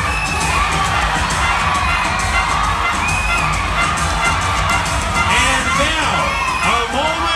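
A crowd at a bodybuilding awards announcement screams and cheers loudly and continuously, with high shrieks and whoops rising over dense babble throughout.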